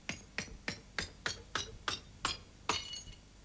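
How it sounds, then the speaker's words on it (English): Nine sharp sampled glass-smashing crashes played from a keyboard sampler fire in a quick, even rhythm, each a bright shattering burst, loud and close with no talking. "the whole keyboard is full of glass smashing"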